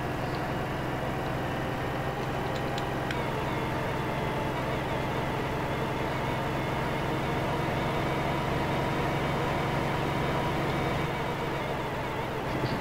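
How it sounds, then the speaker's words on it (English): Farm tractor engine running rough, a steady low mechanical drone with a constant hum, continuous and fairly close with no talking. "Doesn't sound well at all, this tractor."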